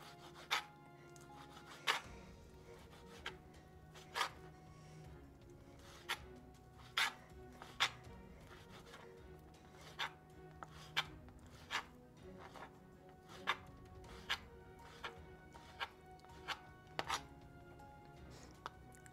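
A knife slices bacon into small pieces on a cutting board, producing about twenty sharp, evenly spaced chopping taps close by, over quiet scraping between strokes, with no talking.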